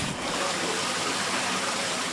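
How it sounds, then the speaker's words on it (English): Floodwater gushes and runs off sodden hillsides in an East Yorkshire village during a very wet year, a steady, dense rushing wash of moving water heard up close without a break and with no talk. "Water just runs off the sodden hills."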